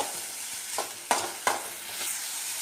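Tomato fries in a pan for a veg burger filling, with a constant hiss under a few sharp, loud scrapes and knocks from stirring, and no voices.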